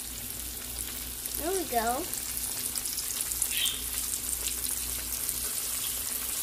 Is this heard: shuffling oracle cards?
no